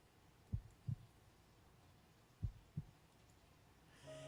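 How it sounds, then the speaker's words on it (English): Two pairs of soft, low heartbeat thumps from the video game To the Moon, spaced about two seconds apart, quiet against a faint ambient hum with no talking. "you still have the heartbeat sound that you can hear"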